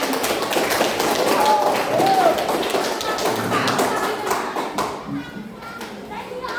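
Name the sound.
classroom applause for group 1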